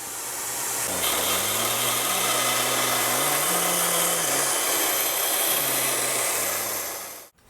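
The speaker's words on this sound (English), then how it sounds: "I've got somewhat of a fence set up on my little bandsaw here." A small bandsaw fitted with a fence rips a Ziricote wood fretboard blank, a steady loud whine and rasp with the motor pitch dipping under load before spinning down at the end.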